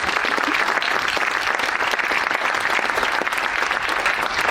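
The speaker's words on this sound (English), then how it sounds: "how about a round of applause?" Sustained audience applause at the close of a talk on building entrepreneurs, investors and boards, a dense steady wash of many hands clapping for several seconds, loud and even throughout.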